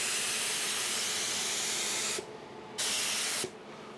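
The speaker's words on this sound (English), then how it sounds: "we're just gonna spray the back just once" Spray gun hissing as finish is shot onto the back of cabinet trim, a loud steady burst, a short pause, a second burst, then another stop, close up with no talking.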